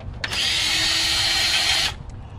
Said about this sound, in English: it's easy enough for me to switch it to my DeWalt power driver, power screwdriver